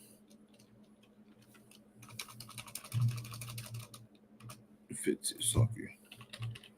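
Clicky typing on a computer keyboard, bursts of rapid keystrokes at close range with short pauses between runs, while someone speaks briefly.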